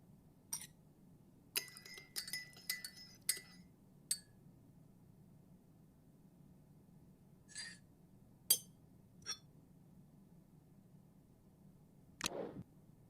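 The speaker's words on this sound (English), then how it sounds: "Now let's give it a stir." A spoon clinks against a teacup while stirring sweetened tea, giving scattered light metallic taps and chimes over a quiet room background, with a soft scraping rub near the end.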